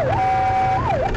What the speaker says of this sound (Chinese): 警方立即鸣笛追上拦查。